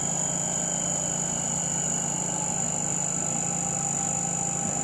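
A Brewer Science 100 spin coater spins steadily at 3,000 RPM, giving a constant, even whir with a sustained high whine and no change in pitch throughout.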